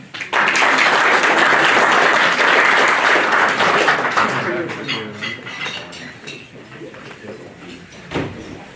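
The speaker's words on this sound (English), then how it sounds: "Please give an applause to Mr. Michael Leyland." Dense audience applause at a Rotary club meeting for a guest speaker, loud and sustained for several seconds, then tapering off as a voice begins speaking.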